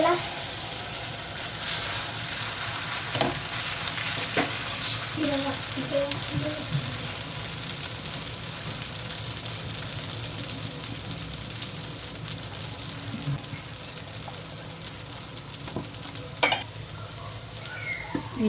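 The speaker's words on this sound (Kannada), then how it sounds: "ದೋಸೆ ಕೂಡ ಹಾಕೋತಾ ಇದ್ದೀನಿ." Dosa batter sizzles on a well-heated griddle at a food festival stall, a steady close frying hiss running throughout with sharp spatters and voices in the background.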